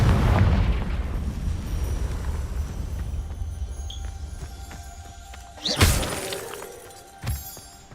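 A Confringo fire-blast spell from Hogwarts Legacy bursts loudly about two-thirds through, with a smaller pop shortly after, over a steady wash of game ambience and rumble.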